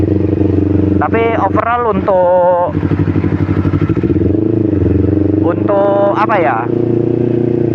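A Kawasaki Ninja 250 Fi motorcycle engine idling steadily nearby on fresh Shell Advance AX7 oil, a constant low hum under someone talking throughout.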